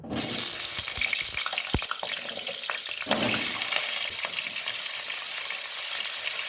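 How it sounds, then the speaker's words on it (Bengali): Steady loud sizzling of potatoes frying in hot mustard oil in a wok, close up, with an occasional clink of a utensil. "এবার আলুটা ভেজে নেব।"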